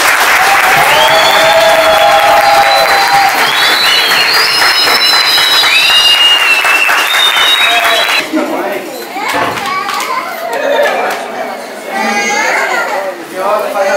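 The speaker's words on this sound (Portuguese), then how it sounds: "Uma salva de palmas aqui." At a capoeira graduation, a crowd claps and cheers with children's voices and chatter mixed in, loud and continuous at first, then giving way to scattered claps, talk and playful shouts.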